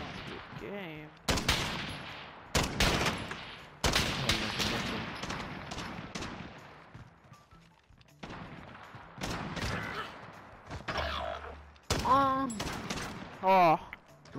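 Sniper rifle shots ring out in a three-on-three video game gunfight, several loud single cracks spaced apart, each with a short tail, mixed with bursts of other gunfire while players talk over them.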